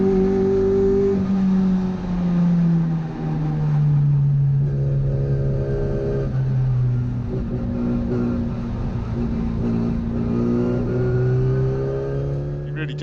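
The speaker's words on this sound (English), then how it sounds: "we've got a McLaren going past there and a Lotus." A McLaren and a Lotus roar past on the Brands Hatch circuit, their engine notes swelling and sliding downward as they go by at mid distance. A steady rumble of other track cars runs underneath, and a voice speaks over it.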